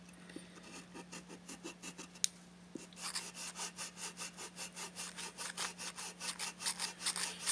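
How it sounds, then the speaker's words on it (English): A Baroque fret and string eraser, its coarse-grit block end worked against the sides of guitar frets, gives steady rhythmic back-and-forth rasping strokes, close and fairly quiet, speeding up and growing louder in the second half. "You can also use the block end to get to the sides of the frets to really get all the stuff out of it."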